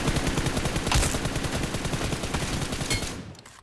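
Rapid automatic gunfire rattles close and loud in PUBG Mobile, as a continuous burst of hip-fire shots is aimed at a training mannequin before cutting off abruptly at the end.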